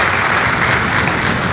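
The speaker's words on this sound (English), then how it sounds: "Let's give Frank a round of applause." An audience at an 8th grade school concert applauds the technician. The clapping is dense and steady, loud and close, and fills the whole short moment without any voices.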